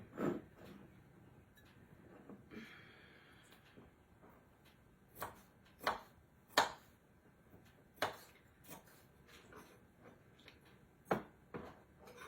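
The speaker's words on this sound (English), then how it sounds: "Just going to use one of my smaller knives and chop them." A small kitchen knife chops food on a cutting board, producing sparse, irregular sharp taps spaced a second or two apart, fairly quiet in an otherwise still room.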